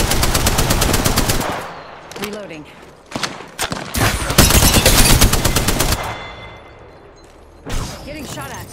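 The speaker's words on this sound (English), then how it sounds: "Shots fired. And they're hitting me." Video game gunfire comes as loud, rapid automatic bursts with fast repeating shots and pauses between bursts, and a voice talks in between.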